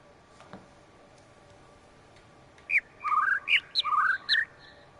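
A bird in the video game The Witness sings a string of bright, whistled high and low notes, around six in quick succession, after a quiet stretch with a faint tick, heard alone over low background hiss.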